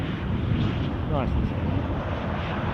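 Jetstream 41 turboprop lining up on the runway at Aberdeen Airport, a steady broadband engine roar heard from a distance, with wind buffeting the microphone throughout.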